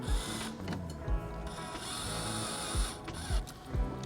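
An Allen driver drives M8 by 20 bolts during a cargo shelf install in a vehicle. It makes steady mechanical whirring and ratcheting, with soft, regular low knocks about every second.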